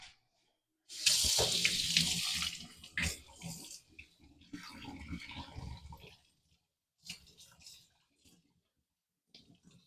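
Tap water running over chicken feet being washed in a kitchen sink, splashing and gurgling close by in uneven bursts, then stopping with a few faint drips and clatters.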